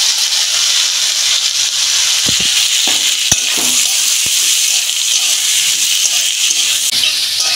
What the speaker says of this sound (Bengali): পেঁয়াজটা আমার ভাজা হয়ে গেছে, আমি আলু আর চিচিঙেটা দিয়ে দিই।